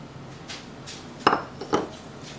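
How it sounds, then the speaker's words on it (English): A spoon knocks and scrapes around a bowl of cookie batter made with melted butter, sugar, a whole egg and a yolk, giving a couple of sharp clinks over a quiet kitchen background. "Give that a stir."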